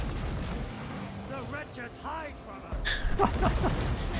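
Crane guns fire in a Total War Warhammer 3 battle, in the Immortal Empires campaign, with booming artillery blasts and scattered explosions, loud and close. Someone talks over the gunfire throughout.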